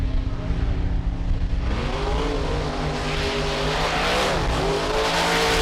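Mark Hall's Raminator monster truck from Hall Brothers Racing roaring through a race at the 4-Wheel Jamboree in Lima, Ohio, a loud continuous engine drone with rising revs and a crowd-like wash behind it.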